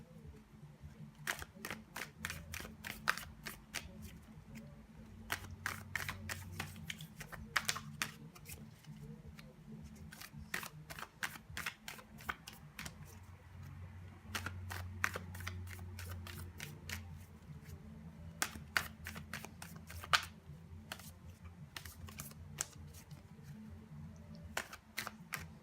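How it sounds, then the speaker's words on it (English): Tarot cards being shuffled by hand, a long stretch of quick, crisp flicking and riffling bursts close by, coming in irregular clusters over a low steady background hum. "Shuffle these cards."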